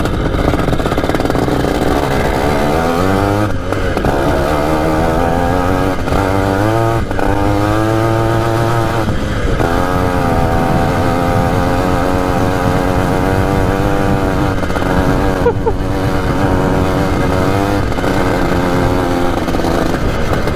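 An old three-wheeler's small engine runs close by with a buzzing, sputtering drone, rising and falling in pitch as it revs without reaching full throttle, steady throughout.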